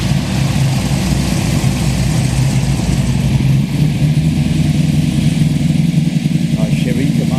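A Ford XP car at a Coffee and Cars show produces a steady, loud, low engine rumble that runs throughout, while a voice talks over it.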